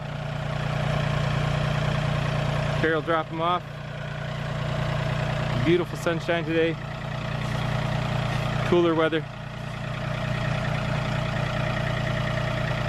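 Steady low rumble of a tractor engine idling with forks fitted, running continuously beneath a voice talking outdoors.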